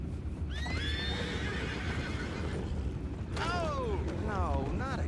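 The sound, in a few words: horse neighing and hooves in video game Red Dead Redemption 2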